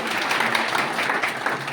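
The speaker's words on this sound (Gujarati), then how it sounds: "શામળાજી કોલેજના છોકરાઓ તાળીઓ પાડી દેશે પાછું" Shamlaji college students break into applause: a steady, dense wash of clapping from a sizable crowd, continuous and fairly loud throughout.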